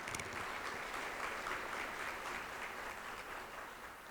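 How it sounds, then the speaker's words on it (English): Sustained audience applause fills the room at a mayor's international brunch, steady, dense clapping that holds evenly throughout without any talk over it. "let's give them a big round of applause because we know that they did an awesome job this"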